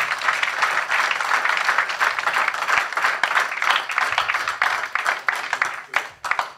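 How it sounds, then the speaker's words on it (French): A congregation applauding at an Easter Sunday church service: dense, sustained clapping from many hands, steady throughout and thinning slightly toward the end. "Applaudissez pour le Seigneur."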